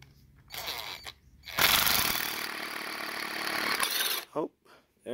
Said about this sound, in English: Just need to get the auger all the way through.